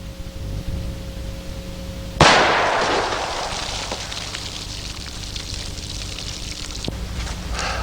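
A single sharp gunshot from a full-size Smith & Wesson 460 Rowland pistol fired into frozen water bottles, with a loud crack that rings out and decays into a long noisy tail, over steady outdoor background hum.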